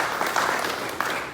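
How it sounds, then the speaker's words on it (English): A seated audience at a sports campus grand opening gives a brief burst of clapping for a county commissioner, a short, dense patter of many hands with a sharp accent near the end. "Give Ron Oakley a round of applause."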